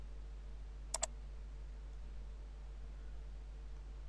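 Two quick, sharp clicks of a computer mouse's left button sound close together, followed by a faint steady hiss.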